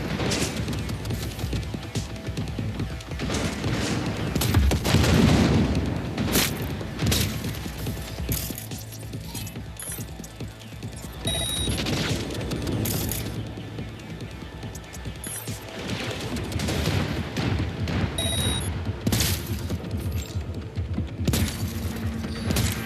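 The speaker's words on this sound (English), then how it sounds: "Heavy artillery!" Heavy artillery fire in the video game Cyberpunk: loud, dense bursts of booming blasts and mechanical clatter rolling on and off, with intermittent sharp crashes and no clear speech.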